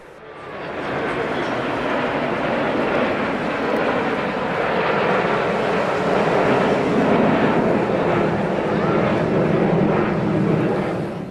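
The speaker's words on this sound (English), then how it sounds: "The TS-11 was designed in Poland in the 1960s as a competitor to the Aero L-29 Delfin to become the Warsaw Pact's main training aircraft." A TS-11 jet trainer flying at the Malta International Airshow 2016, a loud sustained broadband engine roar that swells slightly toward the middle and fades at the end, with faint talk underneath.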